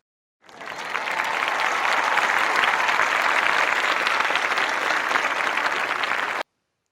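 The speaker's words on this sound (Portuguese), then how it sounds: "No final, o estádio inteiro aplaudiu de pé." A stadium crowd gives a standing ovation at the end of a pop halftime show, a dense wall of clapping that swells in quickly, holds steady and loud for about six seconds, then cuts off abruptly.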